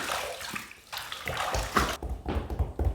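A razor is rinsed under running tap water after a shave with Captain's Choice Bay Rum, a steady close splashing and gurgling stream lasting a few seconds, uneven in level, with no talking.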